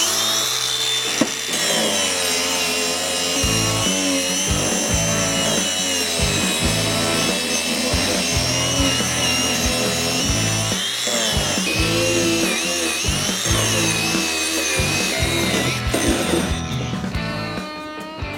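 A power carving wheel grinds away at a wooden chair seat and the tops of its legs, a loud continuous whirring, rasping drone that rises and dips as the wheel bites and lifts, close up throughout with no speech.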